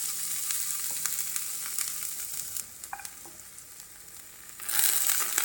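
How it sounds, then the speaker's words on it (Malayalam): Mustard seeds spluttering in hot oil with chopped ginger added, a faint crackling sizzle with scattered pops and small clinks, rising louder near the end. "എണ്ണ ചൂടായതിന് ശേഷം കടുകിട്ട് പൊട്ടിക്കാം"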